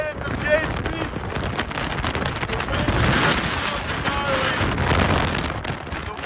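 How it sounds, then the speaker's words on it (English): Strong wind on a mountain peak at Jay Peak in Vermont in winter, a loud, constant roaring buffet that rises and falls against the microphone, with people talking underneath. "The wind is absolutely gnarly."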